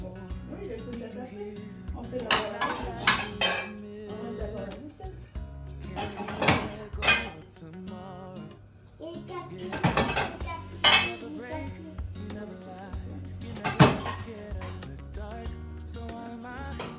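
Ceramic dishes and cutlery clatter and clink as they are stacked and put away in a kitchen, with occasional drawer or cupboard knocks, close and irregular, while people talk throughout.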